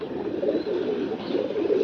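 Pigeon chicks coo softly and continuously nearby, a low murmuring warble with slight swells in loudness and no talking.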